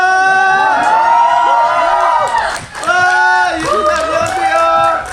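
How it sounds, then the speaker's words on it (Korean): A theater audience at a film screening event shouts and cheers loudly for actress Kwon Yuri, with high excited voices and whoops rising in two sustained waves and a brief dip between them. "권유리 배우님에게만 소리 지르신 거 아시죠?"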